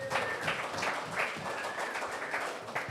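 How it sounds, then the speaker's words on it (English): Faint applause from a live podcast audience, a steady wash of clapping that rises and falls over a few seconds with no talk on top. "Give yourselves a round of applause"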